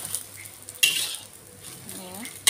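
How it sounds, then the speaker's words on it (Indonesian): Eggs frying in a pan, with a faint sizzle, a sharp clink of a utensil against the pan, and light stirring and scraping in a home kitchen. "saya goreng telurnya sampai matang"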